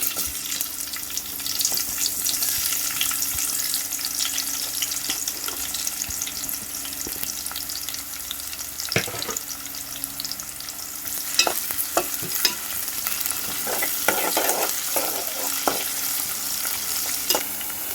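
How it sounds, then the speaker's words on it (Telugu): Onions fry in hot oil in a pan, a continuous close sizzle with scattered scraping stirs and occasional clicks, steady throughout with no voices. "మనకి ఆయిల్ అయితే వేడైంది కదా, ఉల్లిపాయలు వేసుకుందాం."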